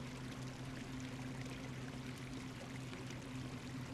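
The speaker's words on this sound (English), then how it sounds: "We'll connect the well and we're gonna go ahead and fill this up." Water pours steadily from a connected well into a container in the survival game No One Survived, a continuous hissing rush with a low hum beneath, constant and even throughout.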